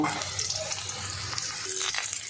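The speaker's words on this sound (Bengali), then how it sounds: "আমি সব ফুলকপিগুলো ভেজে নেব।" Cauliflower fries in mustard oil, a soft constant sizzle and bubbling with faint clinks of stirring, fairly quiet and close.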